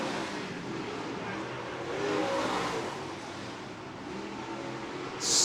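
Late model race cars circling Merritt Speedway in a heat race, engines roaring steadily from a distance and swelling as cars pass, with a sharper burst at the end.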